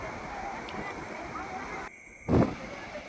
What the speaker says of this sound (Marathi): लाटा पण बघा काय येतं